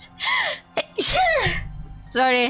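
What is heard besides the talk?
sneeze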